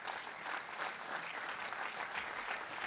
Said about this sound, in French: On applaudit notre conférencier.